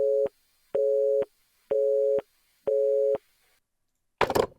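Telephone busy signal heard after picking up a call in the horror game Dread Weight: four steady, evenly spaced tones with short silent gaps, clear and close, ending in a brief burst of noise.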